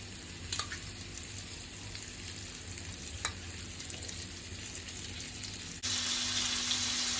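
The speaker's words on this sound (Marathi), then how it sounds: "गॅस मिडियम ठेवून आजूबाजून तेल टाकायचं" Black creek fish frying in oil in a pan over a medium gas flame, a quiet steady sizzle with a few soft clicks, growing louder as more oil is added near the end.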